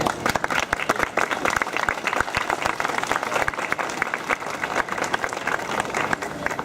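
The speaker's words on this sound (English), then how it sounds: "we should give a round of applause to each and every single one of those men and women who fought during the uprising" Sustained applause from a crowd gathered at a Warsaw Uprising mural in New York City, honouring the uprising's fighters; dense steady clapping fills the whole stretch, fairly near and even, with no voices standing out.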